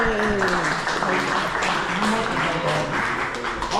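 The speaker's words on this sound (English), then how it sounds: "Of course, round of applause for all of you." Applause from a tour group at the Casa Bacardi rum distillery in Puerto Rico: a steady, moderately loud wash of clapping under overlapping voices and chatter.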